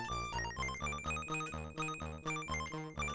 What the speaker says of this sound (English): Notification sounds are fine.